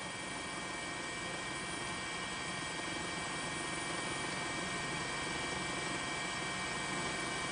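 A steady, loud helicopter rotor and engine drone over Sendai, Miyagi Prefecture, Japan, during tsunami coverage fills the whole stretch, constant and unbroken, with no voices over it.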